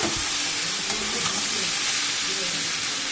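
A fish head stirred and fried in a pan gives a loud, dense, continuous sizzle and hiss close by, with faint stirring scrapes underneath.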